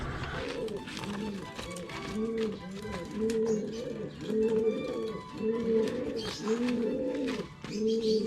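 Pigeons coo repeatedly in a steady rolling rhythm, close and prominent, with chatter and rustling mixed in throughout.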